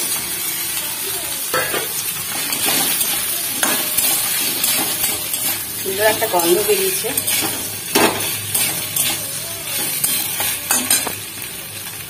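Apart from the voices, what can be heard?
fried potatoes stirred and frying in a pan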